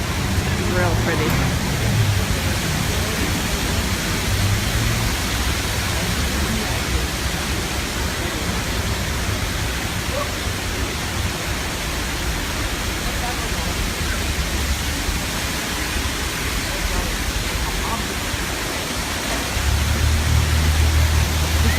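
Water pours steadily at an outdoor fountain near the New York, New York resort in Las Vegas, a continuous hissing wash that fills the background while people talk nearby.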